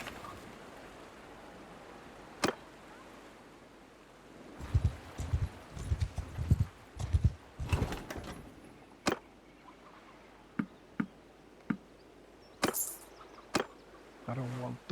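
Horse hooves clip-clop in Mount & Blade Bannerlord as a herd of saddle horses is led along, a run of close hoofbeats followed by sparse scattered single clops over quiet ambience.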